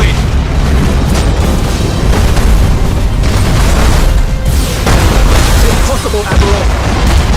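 A defense platform blows up in the space strategy game Battlefleet Gothic Armada 2, a loud, sustained roaring blast with rumbling bursts that stays dense and heavy throughout.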